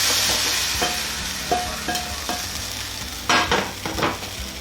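A hot tempering is poured over Punjabi kadhi pakora and stirred in, sizzling loudly at first and then fading, with a spoon clinking and scraping the pot several times.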